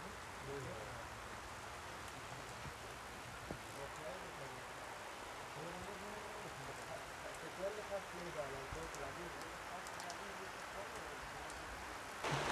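Steady, dense heavy rain hisses throughout in a village, a constant wash of sound with a few brief knocks, no clear voices over it.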